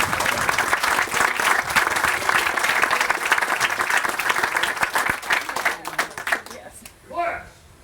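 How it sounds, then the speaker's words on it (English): Outdoor crowd at a school dedication ceremony gives students a sustained round of applause with scattered individual claps, then it thins and fades as a voice speaks near the end. "let's give the students a big round of applause"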